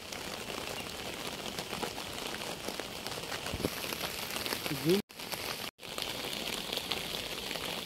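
Heavy rain pours over a village in a constant, dense hiss; a short vocal sound rises briefly near the end, and the sound cuts out twice for a moment.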